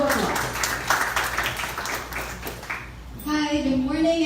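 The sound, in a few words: audience applause for speaker at launch event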